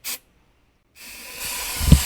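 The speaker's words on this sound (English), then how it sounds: "spraying starter fluid in it, clean it out a little" Starter fluid sprayed from an aerosol can into the engine of a 1978 Jeep Cherokee: a short hiss burst, a pause, then a longer, steady close spray hiss that swells toward the end.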